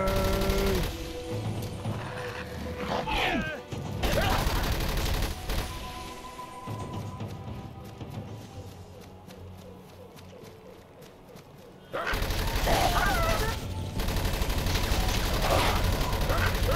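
Sustained gunfire in the Avatar video game, a loud continuous fusillade of shots with a quieter stretch in the middle before heavy firing resumes.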